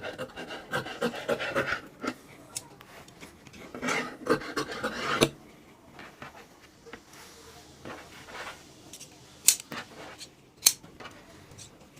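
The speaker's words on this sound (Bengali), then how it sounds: "মার্জিন বরাবর কেটে নিতে হবে" Scissors cutting kameez fabric along the marked margin, a steady series of close, rasping snips and slides through cloth, busier at first and then sparser with occasional sharp clicks, no one talking.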